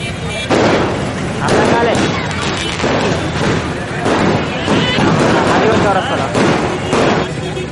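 Firecrackers burst in loud, crackling volleys one after another at a college celebration, with a voice talking over the din.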